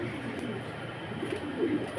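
Pigeons coo at a farm, a low, continuous murmur of several birds nearby, with a faint voice in the background.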